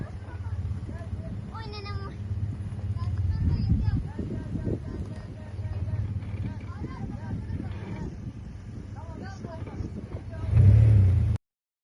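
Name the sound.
off-road car engine revving on rough terrain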